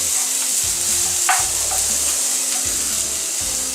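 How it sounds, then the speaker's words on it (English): Carrot and onion fry in olive oil in a pan, a steady close sizzle carrying through, broken by several low scraping stirs of a spoon and a brief clink, without any talking. "So now we are adding carrot to our onion."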